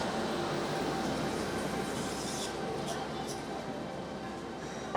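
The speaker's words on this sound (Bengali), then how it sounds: "আমাদের হামসফর এক্সপ্রেস ট্রেনটিও ইতিমধ্যে প্ল্যাটফর্মে ঢুকে পড়েছে" The Humsafar Express stands at platform twelve of a busy railway station, its low, steady rumble filling the background while someone talks over it.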